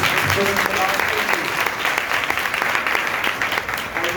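Loud, sustained applause from a church congregation, dense clapping continuing steadily throughout without pause.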